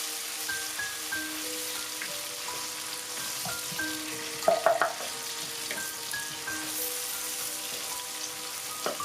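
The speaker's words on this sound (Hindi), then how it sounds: "अब हम इसके अंदर टमाटर डालेंगे, एक छोटे साइज का चॉप किया हुआ।" Chopped tomatoes sizzle and fry with onions in a pan, a steady, fairly quiet crackle with a few sharp clinks from a spoon partway through, and no talking.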